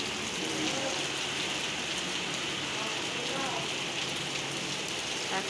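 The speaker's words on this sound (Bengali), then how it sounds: "কি হারে বৃষ্টি হচ্ছে, দেখুন।" Heavy nighttime rain during a storm pours in a dense, close, continuous roar over a flooded street, with faint voices murmuring underneath at times.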